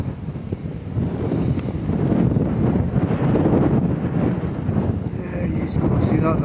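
Wind rumbles and buffets a microphone outdoors at a release of young racing pigeons, a loud, steady roar with gusts that swell and ease, and voices speaking faintly underneath.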